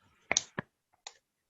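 Quiet, sharp hand claps keep time with a children's song in a classroom: two close together, a third just after, then one softer clap following a short gap.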